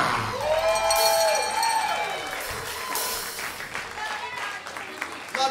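A holiday jam concert audience claps and cheers in a large hall, the applause loud at first and then fading, while a presenter talks over it and a sustained musical tone lingers early on.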